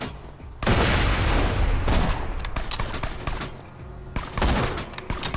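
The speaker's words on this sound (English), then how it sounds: "that was a rather lackluster grenade" A grenade bursts in Borderlands 2 gameplay: a loud, sudden blast at the start, then a dense run of further booms and gunfire-like cracks in rapid succession, with a second strong burst near the end.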